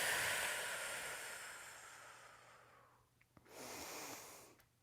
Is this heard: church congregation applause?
no